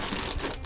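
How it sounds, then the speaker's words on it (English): A giant plastic bag holding taped-in display pieces crinkles and crunches up close in a dense, continuous rustle as the pieces are grabbed. "So let's grab all of these pieces. It's just in a giant plastic bag."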